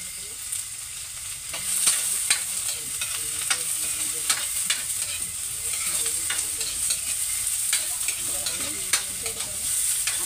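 Garlic and onion stirred and sautéed in a hot pan, a steady sizzle with scraping and clinking of a spatula or spoon throughout, fairly close and continuous with no talk.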